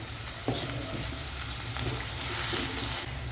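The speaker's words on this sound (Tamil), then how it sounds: "ஏன்னா இந்த வெங்காயம் கொஞ்சம் வதங்கும் நல்லா" Onions with salt sauté in a pan for mushroom gravy, a steady close sizzle with soft scraping stirs over it throughout the short stretch.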